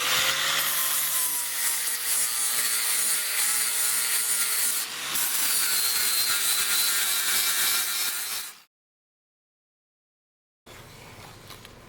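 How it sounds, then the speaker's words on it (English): A flap disc on a grinder smooths a weld on the repaired leg of a broken post vise, a loud steady abrasive whine that dips briefly, cuts out for about two seconds, then resumes more quietly. "I'm going to take a flap disc here and just kind of clean off the surface"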